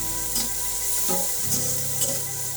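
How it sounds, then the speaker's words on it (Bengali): Onions fry in a pan for a chicken skin curry, a soft continuous sizzle with occasional scraping stirs, close and moderately quiet, no talking. "পেঁয়াজগুলো একটু লাল লাল করে আমি ভেজে নেব যাতে করে পেঁয়াজের কাঁচা গন্ধটা চলে যায়"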